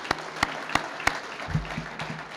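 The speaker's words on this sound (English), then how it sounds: "Give them a round of applause, too." An awards-event audience applauds for the sponsors, the sound coming as a few sharp, spaced claps at first and then a brief softer patter that fades quickly.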